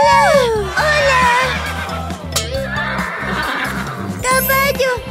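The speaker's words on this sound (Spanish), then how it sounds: "¡Caballo!" A cartoon horse on a children's farm gives a loud, rising and falling whinny over bouncy background music, with a second neigh near the end.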